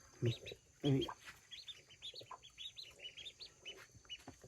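Ducklings peep in quick, high, scattered chirps beside a hen raising them, with a couple of louder, lower clucks early on, all faint and close in a quiet farmyard.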